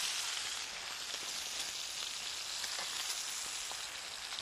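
Steaks sizzling in a frying pan, a constant bright crackling hiss with small pops scattered through it, close and steady with nobody speaking.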